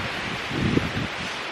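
Wind blowing outdoors, a soft, steady rush with a gentle gust building in the middle and fading again.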